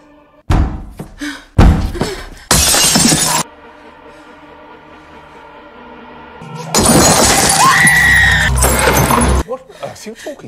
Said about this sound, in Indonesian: mendengar suara teriakan dan kaca pecah